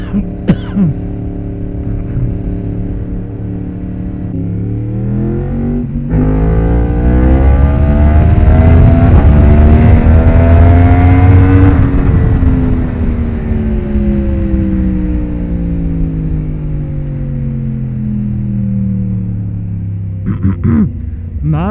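A car engine revving hard on the throttle while new tires are tested, a loud close rumbling drone that climbs and falls in pitch over a long stretch, with brief voice sounds near the start and end.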